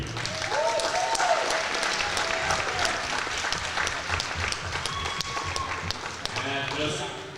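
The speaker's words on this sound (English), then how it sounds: "give them all a big round of applause" Crowd applause at a high school wrestling dual between Point Pleasant and Ripley, a steady wash of clapping and cheering filling the whole stretch with sharp individual claps over a noisy gym, while people talk and shout in the background.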